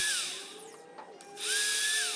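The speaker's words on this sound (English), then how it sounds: "Here I'm pre-drilling the holes just to make it easier for when I screw them in." A cordless power drill pre-drills screw holes in plywood for a small skateboard mini ramp, its high motor whine rising, dipping as it bites, then surging again close by.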